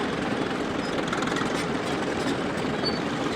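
Antique Caterpillar tractor with a hand-cranked two-cylinder gas engine running at an outdoor parade, a steady continuous mechanical rumble with no breaks.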